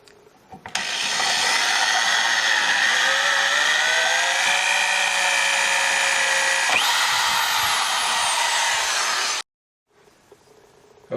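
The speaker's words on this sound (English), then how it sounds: "tapping gun, which is very similar to a drill, only it has the tap which establishes the threads" A tapping gun cuts threads into a stove's combustor housing: a loud, steady power-tool whine with a buzzing motor tone runs for several seconds, shifts pitch partway through, then cuts off abruptly.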